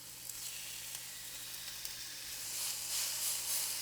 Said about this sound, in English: I'm going to sear them. I'm going to put them on the grill.